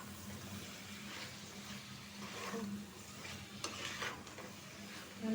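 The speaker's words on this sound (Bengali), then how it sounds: "ডাটা আর আলুটা পাঁচ মিনিট কষায় নিব তারপরে ঝুল দিয়ে দেবো" Potatoes and vegetable stems stirred and sautéed in a pan for a Bengali hilsa fish curry, with a steady low sizzle and scraping stir strokes, close and moderately loud, no talking.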